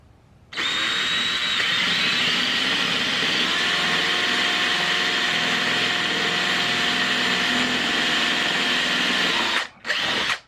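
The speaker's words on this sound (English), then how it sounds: "I did drill my fender" A power drill whines steadily while boring a hole in an Alta Redshift SM39 motorcycle fender, starting abruptly, holding a loud high tone for about nine seconds, then stopping with a couple of short bursts.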